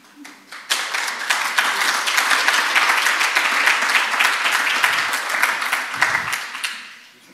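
An audience at an education talk breaks into a long, full round of clapping that starts abruptly, holds strong for several seconds, then tapers off with a brief voice near the end.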